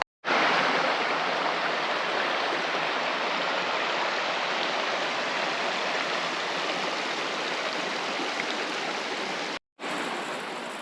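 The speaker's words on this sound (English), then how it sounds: "Well, I can hear the water and you can see it just there." A steady, loud rush of flowing stream water on Tasmania's east coast fills the whole clip, broken only by a brief cut near the end.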